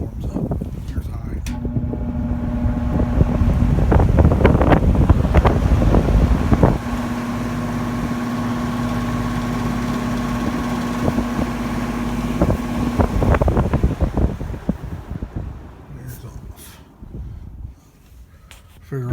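Vintage Kisco box fan running on high speed, a loud steady whoosh of moving air with a constant motor hum that eases off near the end.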